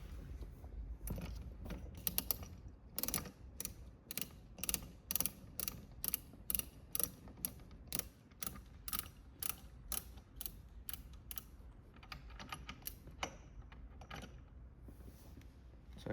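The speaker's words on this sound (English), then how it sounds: "We're gonna remove this set screw on the bottom" A set screw is worked out of the base of a Riversmith Swiftcast raft fly rod holder, giving a steady run of small, close ratcheting clicks and mechanical ticks with no talk.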